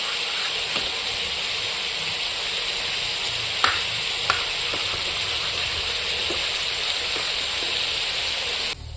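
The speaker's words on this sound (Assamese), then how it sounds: "এইফালে আমাৰ ওলকবি আৰু আলুখিনিও ভাজা হৈ গ'ল" Kohlrabi and potato pieces sizzle steadily in a hot pan, a continuous frying hiss with a few faint scrapes and clicks, close and unbroken, with no voices.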